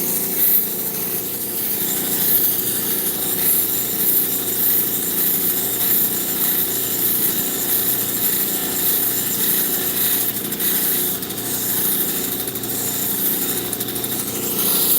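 A lapidary wheel at 280 grit grinds stone such as turquoise, obsidian or opal, giving a continuous close, loud abrasive rubbing and hiss. It holds steady for about fifteen seconds with slight swells as the stone is pressed and turned, and no talking.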